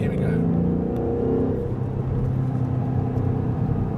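A 2015 Ford Mustang V8 pulls hard on an autobahn, its steady engine drone rising with gear shifts, close and continuous inside the cabin. A person talks over the engine noise.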